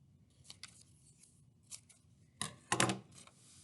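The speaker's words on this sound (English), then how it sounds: "And then I'll cut my wavy line." Scissors snip through paper along a wavy line for a winter mitten craft, giving a few light, quiet cuts early on and then a louder burst of crisp snipping near the end, with no talk.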